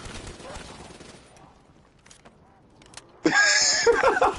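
Gunfire in a video game goes off in scattered shots, then falls quiet before a loud burst of rapid firing near the end, with players talking over it.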